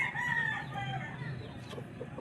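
A rooster crows nearby, one drawn-out call over faint background noise.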